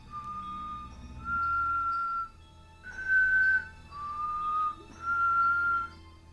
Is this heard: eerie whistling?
yes